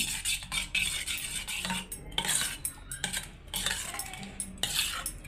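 A spoon stirs very thick curd in a bowl, making close, repeated clinking and scraping strokes in an uneven rhythm, with no speech.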